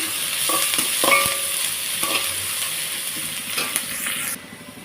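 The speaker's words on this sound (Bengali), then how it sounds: "পেঁয়াজটাকে একটু লাল করে ভেজে নেব দিয়ে দেবো হালকা পরিমাণ কালো জিরে" Onions with black cumin seeds frying in oil, giving a continuous loud hiss and sizzle, broken by a few spatula scrapes and taps against the pan, close up and with no talking.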